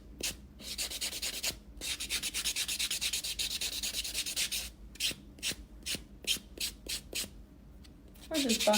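A nail buffer rubs back and forth over dip powder nails in quick, close scratchy strokes, steady at first and then in short separate bursts near the end.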